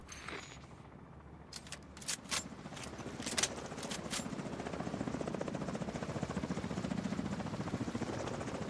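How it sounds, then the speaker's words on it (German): Enemy helicopter closing in during The Division 2, its rotor chop settling into a steady, rapid thumping that holds at an even, fairly loud level through the second half, after a few sharp clicks and clatters early on. "Feindlicher Heli im Anflug."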